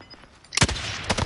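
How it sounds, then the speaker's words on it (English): Gunfire in a first-person shooter match: a quiet lead-in, then a loud burst of shots with several sharp cracks and echoing tails following one another. "Oh, there's gunfire."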